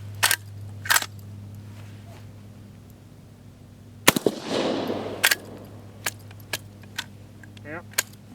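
A Century Arms PW87 lever-action 12 gauge shotgun fired outdoors, one loud close blast with echo in the middle, followed by sharp mechanical clicks and clacks of the lever working, with speech nearby.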